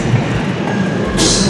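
A train at Ghent station in Belgium makes a brief, loud, close rumble of rail noise, with a hiss rising near the end.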